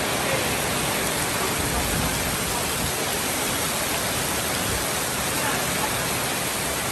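A steady, dense roar of heavy rain pouring down during a storm without pause, loud and constant throughout.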